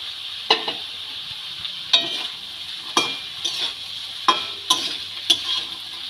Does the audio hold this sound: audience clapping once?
no